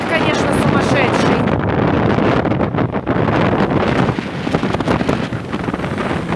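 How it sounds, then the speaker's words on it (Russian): Sea waves and strong wind on the Ocean City shore, heard from a pier: loud, steady wind buffets the microphone over a continuous roar of surf, with no pauses. "Я хочу поснимать, какие здесь волны."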